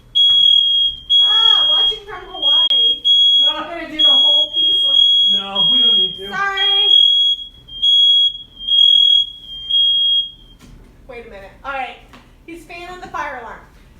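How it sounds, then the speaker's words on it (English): A smoke alarm, set off while a heat gun strips paint, beeps in a rapid continuous high-pitched pattern while people talk over it, then stops as talking continues. "Oh, there goes the fire alarm."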